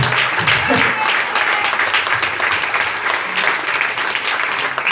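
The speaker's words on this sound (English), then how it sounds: "give yourselves a round of applause" Applause breaks out from the audience at a stand-up comedy night, moderately loud and continuous, with a voice speaking briefly over the clapping.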